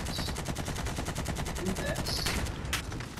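Rapid automatic gunfire rattles in Call of Duty Warzone during a Vanguard event, a dense steady stream of shots with a few sharper bursts, while players talk over it.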